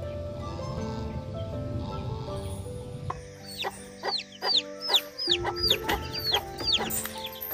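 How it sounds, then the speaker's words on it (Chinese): Small chicks hatched by a household hen peep in quick high chirps while adult chickens cluck at low level, close by, with background noise before the chirping starts and no talking. "看这几个小鸡好可爱啊"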